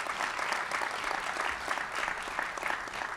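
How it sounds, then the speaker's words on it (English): Audience at a ribbon-cutting ceremony for a Montgomery College education center, giving a steady round of dense applause throughout. "Give yourselves all a round of applause."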